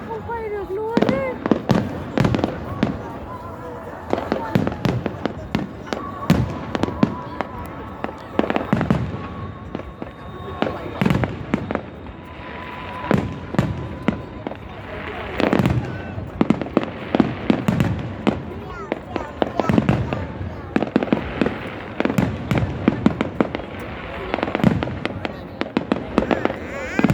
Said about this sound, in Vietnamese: Dậy xem pháo hoa này, Jin ơi.